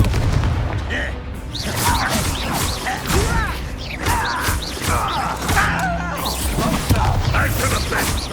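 Confringo fire spell exploding in the Hogwarts Legacy video game, loud repeated booms and crashes with whooshes in a busy battle, spoken game dialogue mixed in throughout.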